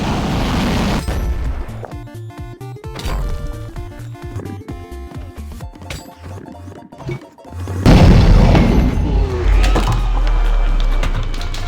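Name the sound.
ender dragon being killed in video game Minecraft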